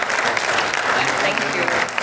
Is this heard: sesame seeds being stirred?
no